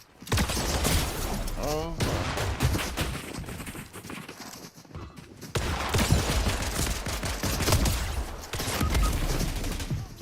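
Rapid shotgun blasts and gunfire in a video game, dense and loud across the whole stretch with a short lull near the middle, while a person occasionally exclaims over the action.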